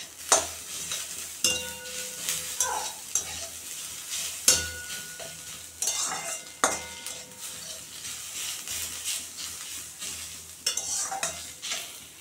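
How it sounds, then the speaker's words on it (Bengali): Onions fry in a pan until brown for a garlic bhorta, giving a steady soft sizzle broken by repeated scraping and clinking stirs of a utensil, with no talking. "পেঁয়াজগুলো দেখো বাদামি কালার ভাজা হয়ে গেছে।"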